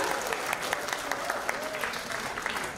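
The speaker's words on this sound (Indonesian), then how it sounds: "Boleh tepuk tangan dulu dong untuk Mas Bima" An audience at a panel on Indonesia's digital position applauds Mas Bima, a sustained wash of many hands clapping at moderate distance, fairly soft and even throughout.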